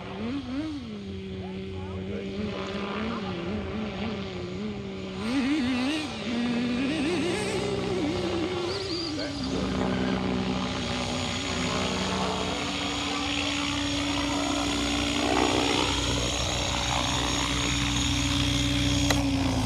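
An XLPOWER 550 RC helicopter comes in to land, its rotor and motor giving a steady, close, droning whine that holds for the whole stretch, with a voice talking at times over it.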